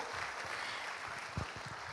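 An audience at an Indonesian award ceremony honouring women inspirators in stunting prevention claps steadily, a dense, even wash of many hands filling the whole brief moment.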